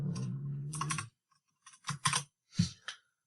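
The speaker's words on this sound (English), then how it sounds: "So, let's type in another thing." A few quick keystrokes on a computer keyboard while entering C++ code, short clustered clicks separated by brief silences.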